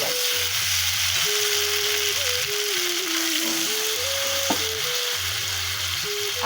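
Fish curry masala frying and being sautéed in a pan, with a steady close sizzle and stirring scrapes throughout, no voices over it.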